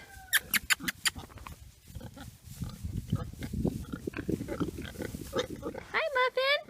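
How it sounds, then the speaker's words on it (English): Pigs on a farm grunt and oink in short bursts close by, with a few squeals, while a woman greets them in a cheerful voice over the animal noise. "Hi, piggies."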